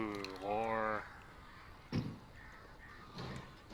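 Crows caw in a dark video game setting, a harsh call near the start, then a couple of brief calls later, with a voice talking around them.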